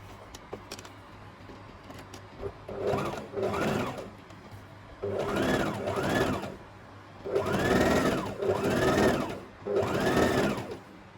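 Sewing machine double stitching maxi skirt fabric, starting and stopping in a series of short revving bursts that grow longer toward the end, close and distinct with quiet gaps between runs.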